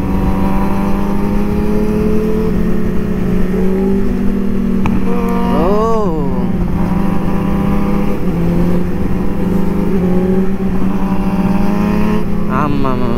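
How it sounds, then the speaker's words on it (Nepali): A Yamaha R6 sports motorcycle engine hums loudly and steadily on a street, with one sharp rising rev in the middle and another brief surge near the end. "मिठो आवाज छ यार त्यसको त्यो R6 को"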